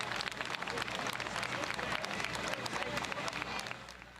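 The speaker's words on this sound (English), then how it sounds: "clapping and cheering through the crowd" Crowd clapping and cheering at an outdoor rescue scene, a dense, continuous wash of applause with scattered shouts that fades slightly at the end.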